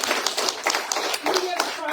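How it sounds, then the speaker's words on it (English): An audience at an Arya Samaj foundation day gathering breaks into a short burst of clapping, scattered hand claps rising and falling while a voice talks over them. "Give a round of applause."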